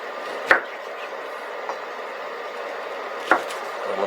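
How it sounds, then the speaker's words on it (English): A knife slicing an orange into chunks gives two sharp cuts that thump onto the board, with a fainter tap between them over quiet room tone. "just slice it up like that"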